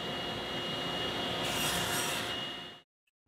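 A tapered dovetail spline being cut on a jig, heard as a steady, loud rasping saw cut lasting a few seconds before it stops abruptly, leaving silence.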